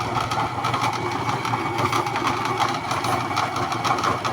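A Farmer pellet mill (granulator) runs steadily with a loud, continuous mechanical drone and dense rattling grind, and no voices.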